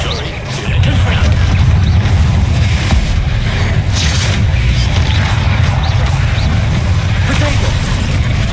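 Spell combat in Hogwarts Legacy, with casts like Confringo, Bombarda and Incendio, makes a loud, dense roar of blasts and booming impacts that continues without a break, with heavy low-end rumble and scattered crashes.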